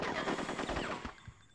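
Rapid automatic gunfire in the video game Conker's Bad Fur Day: a dense, close burst of rattling shots lasting about a second, then tailing off into quieter sounds.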